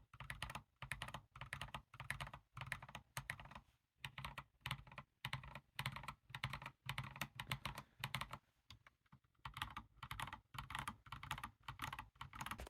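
Steady, fast typing on a modded budget mechanical keyboard, a dense run of crisp clacks with brief pauses, close and alone with no voices.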